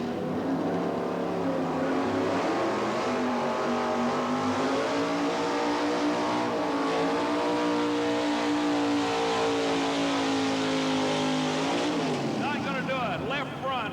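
4x4 trucks at a truck pull event, their engines revving loud and sustained with rising and falling pitch as they strain, under an announcer's commentary throughout.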